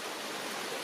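Waterfalls at a rock-carved temple set in green surroundings give a steady, dense rush of falling water, broad and even with no breaks, heard alone.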